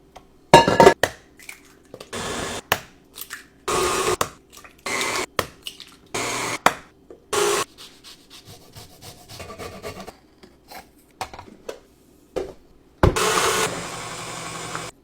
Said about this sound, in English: so it's time to mix the dough